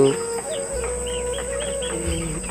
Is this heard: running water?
no